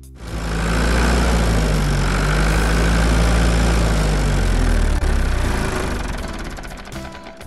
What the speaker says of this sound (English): Tractor with trailer.